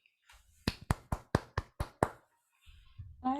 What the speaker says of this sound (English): So I want to give a round of applause and a big thank you to everyone